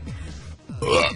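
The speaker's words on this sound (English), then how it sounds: "Yep, that was a burp." A person burps, a loud, close, gurgling belch that stretches out over about a second with a short gap and a rougher surge at the end.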